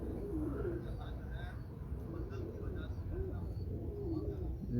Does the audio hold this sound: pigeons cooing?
yes